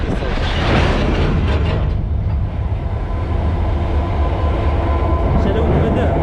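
A train crossing the Mauritanian desert roars past at close range, a loud, continuous rumble and clatter of rolling wagons, with a voice briefly audible near the start.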